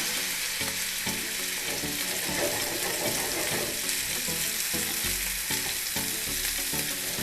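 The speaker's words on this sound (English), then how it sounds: "I'm gonna take my porterhouse and I'm going to put it on my pan" A porterhouse steak sears loudly in a hot oiled pan, giving a dense, continuous crackling sizzle that stays close and steady throughout, with no talking.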